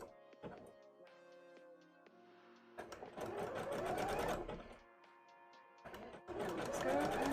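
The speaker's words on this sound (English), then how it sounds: "I'm also sewing on with a zigzag because why not?" A sewing machine runs in bursts of rapid zigzag stitching through layered petticoat fabric, with pauses between runs and a soft thunk as the work is shifted.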